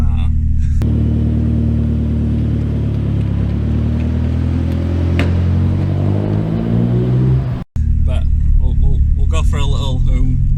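A 270hp Vauxhall Corsa B with a B204 engine driving hard, a loud close engine drone rising as it accelerates, briefly cutting at a shift before pulling again, with people talking over it.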